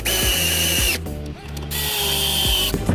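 Power drill driving screws to fix a Railblaza mount to a Hobie PA 14 kayak, loud close whirring bursts with a rhythmic ratcheting tick, two long runs split by a brief pause.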